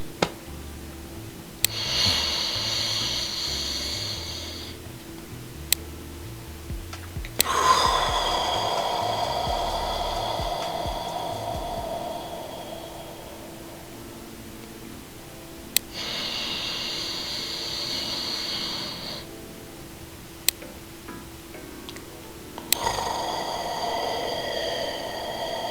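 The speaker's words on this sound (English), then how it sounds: "you hear your breath going in and coming out" Slow, deep breaths drawn in and pushed out, each long airy inhale and exhale close and clear, repeating in an unhurried rhythm during a relaxation demonstration, with no talking.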